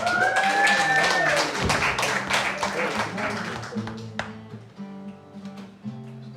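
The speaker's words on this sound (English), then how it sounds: "Give a big round of applause for Andy" Audience at a comedy show applauds and claps for a comedian, a dense burst at first that thins into scattered claps, with a voice and tonal sounds over the tail.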